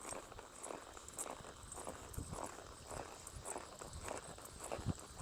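A horse lopes in a collected gait on a riding surface, its hoofbeats coming as a soft, steady three-beat rhythm of muffled thuds through a faint background hiss.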